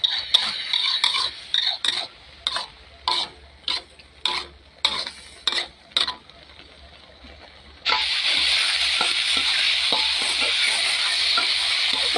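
A spatula clanks against a pan in about a dozen quick rhythmic strokes while stir-frying, then gives way to a loud, continuous sizzle as the food is tossed; close up, with no voices.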